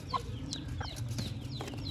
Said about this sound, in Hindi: वो मुर्गे खुले हुए हैं यहाँ पे